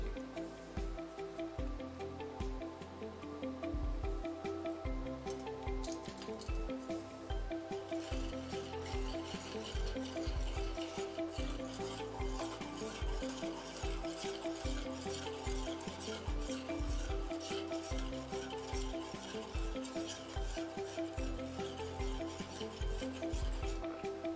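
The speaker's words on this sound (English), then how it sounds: "we choose one of the salts and we dissolve a spoon into the bowl" A spoon stirs salt into water in a bowl, giving a continuous soft scraping and swirling rhythm with repeated strokes, faint and close, alongside a steady tonal hum from nearby equipment.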